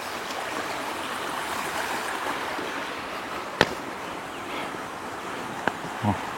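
A mountain stream flows over a ford crossing on a hike near the Miolans mountain, giving a steady broadband rush with a few sharp knocks and clicks close by.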